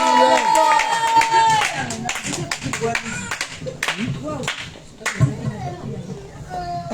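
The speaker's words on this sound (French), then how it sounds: "On dit Amen et on acclame." A church congregation claps and cheers during a Sunday service, with sharp bursts of hand claps and loud voices over music.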